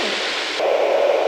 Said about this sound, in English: This is like waves or something, rain maybe, and then just basic white noise.